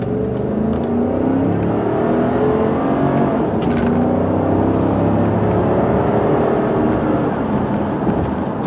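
A 1999 Cadillac Seville STS pulls hard up to 60 mph, its engine note a steady, loud in-cabin drone with rising harmonics and smooth gear changes, heard alone without talk.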